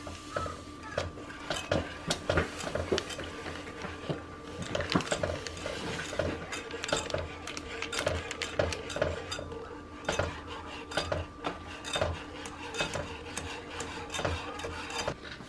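Spoon scraping and clinking against a bowl while a gelatin mixture is stirred by hand, a steady run of close, sharp metallic taps and scrapes with no talking.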